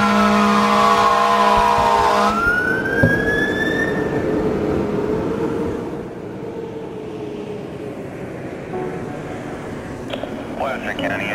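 A fire engine siren wails and rises in pitch as the truck responds to a two-vehicle accident, loud at first, then fading into a low rumble while voices talk.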